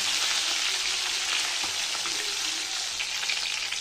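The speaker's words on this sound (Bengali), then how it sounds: "তো বেশি ভাজবো না, একটু হালকা ভেজে নামিয়ে নেবো" Fish pieces sizzle in hot oil in a pan, a loud, steady crackling hiss with occasional sharper pops, heard close and alone without talk.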